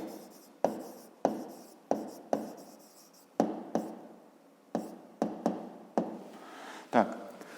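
Chalk or pen taps and strokes on a board while writing the answer to a grade-five math exercise, a series of about a dozen sharp strikes, each followed by brief scraping, close and fairly faint.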